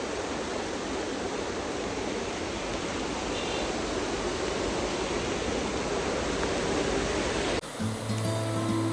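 A large monsoon waterfall beside the ghat road climbing to Matheran roars as a dense, unbroken wash of falling water, loud and close, before cutting abruptly to other noise near the end.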